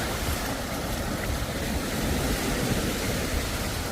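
Surf at a quiet, secluded beach in Sri Lanka, a steady roar of waves washing in with low rumbling and gusty wind on the microphone, continuous with no voices.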